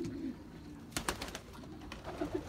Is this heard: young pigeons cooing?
yes